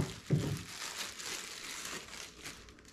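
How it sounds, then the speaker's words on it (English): Crinkling plastic packaging being pulled off new speakers, a brief loud rustle at the start followed by softer continuous crackling close to the listener. "Go ahead and get out of the plastic, take a look at them."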